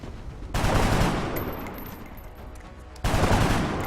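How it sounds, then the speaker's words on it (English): Heavy gunfire in the video game XCOM, two loud sustained bursts of rapid fire, each starting abruptly and slowly fading, the second following about two and a half seconds after the first. "gun this guy down."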